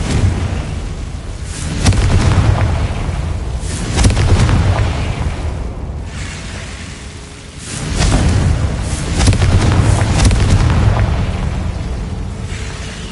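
The Confringo blasting spell goes off repeatedly in a Harry Potter video game, loud deep booms with long rumbling tails arriving about every two to four seconds, close and dominant with no talk.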